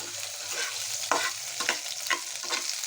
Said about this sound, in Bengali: এখন এগুলা ফ্রাই করছি